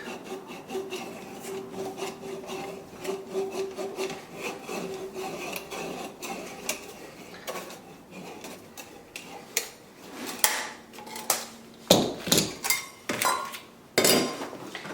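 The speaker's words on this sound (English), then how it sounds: "I'm going to cut today with my tubing cutter." A tubing cutter works through plumbing pipe for an under-sink kitchen install, making close scraping and rubbing strokes that grow louder and more clattery toward the end, with sharp metallic knocks near the finish.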